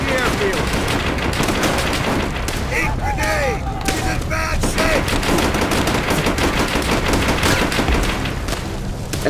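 Dense, continuous gunfire and machine-gun bursts fill a Call of Duty: World at War battle against Japanese defences, loud and unbroken throughout, with a few voices briefly audible beneath the shooting.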